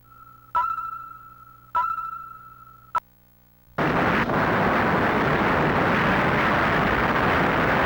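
In the Gamera video game, a missile strike sets Oshima volcano erupting: three sharp electronic lock-on beeps give way to a loud sustained rumbling roar of explosion that continues to the end.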